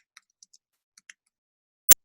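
Scattered light keystrokes on a computer keyboard click faintly a few at a time, ending in one sharp, louder tap.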